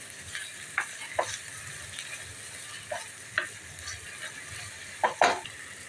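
Bitter gourd being stir-fried in a pan over a medium gas flame, with a steady low sizzle broken by several sharp scraping clatters of the spatula turning the pieces.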